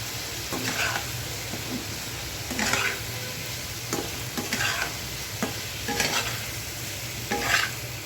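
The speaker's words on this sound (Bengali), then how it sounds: "সব মশলাগুলো তরকারির সাথে একসাথে ভালো করে নেড়ে চেড়ে নিয়ে" Potatoes and okra being stirred with spices in a frying pan, a steady sizzle underneath with repeated scraping strokes of the spoon recurring every second or so, close and clear with no talking.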